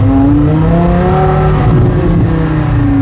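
Loud engines rev and roar as hypercars, including a Bugatti Veyron, accelerate close by in Miami, the pitch climbing and shifting with a brief tire squeal, no talking.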